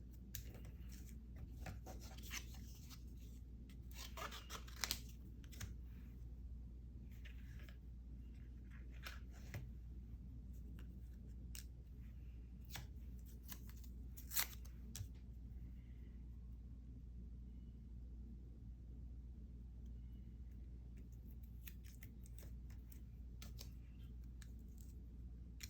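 Scissors cutting out small stamped paper pieces, faint close snips and rustles scattered irregularly over a steady low background rumble, quiet throughout with no speech.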